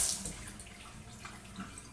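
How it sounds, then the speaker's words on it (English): Hot and cold water running from a Delta 2100/2400 series faucet, a steady close hiss and splash into the sink that stays even throughout, no talking. "we'll go ahead and turn the hot water on, turn the cold water on too"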